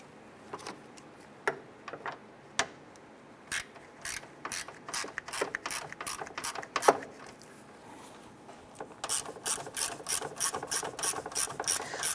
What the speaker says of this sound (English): Install our two 10 millimeter screws to secure this in place.